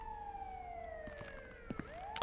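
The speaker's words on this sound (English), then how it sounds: "Oh god, that's the ambulance!" An ambulance siren wails inside the video game GTA V during a night hike, a falling tone that sounds at moderate distance with faint background noise, ending in a sudden loud burst.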